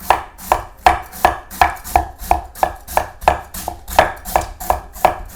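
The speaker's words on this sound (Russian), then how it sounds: "Далее подготовим, нашинкуем капусту" Steady, rapid knife strokes shred cabbage for borscht on a cutting board, each cut a crisp crunch in a regular rhythm, close up.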